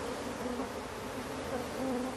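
A steady, dense buzzing of many bees, continuous and fairly close, with no voices.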